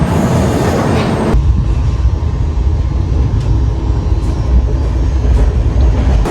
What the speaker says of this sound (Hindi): So guys, train started.